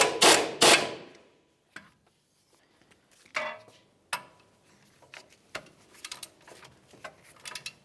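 A socket wrench snugs and torques the upper ball joint nut to 70 foot-pounds on a 2005-2010 Dodge Dakota, heard as a pair of loud ratchet bursts followed by scattered sharp clicks and taps, close by with no talk.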